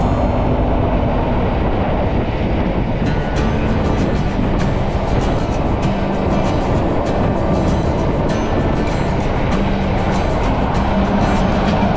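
The Bernina train runs through the Alps out of Tirano, a loud, steady rumble of railway wagons rolling along the track, constant throughout with faint rhythmic clatter and no speech.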